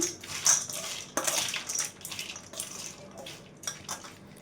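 Chaat pieces being tossed with lemon juice in a bowl, with a spoon clinking and scraping against the sides in irregular bursts, close and moderately loud, no talk.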